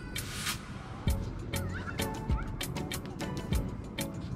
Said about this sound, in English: There's birds over there.